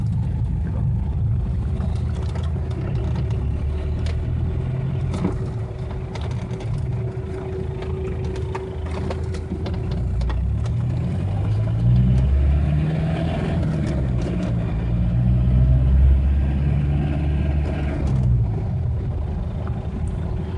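A Ford Ranger with a 2.3 turbo diesel accelerates from inside the cab, its low engine rumble swelling steadily as revs climb, then easing slightly, with no talking over it.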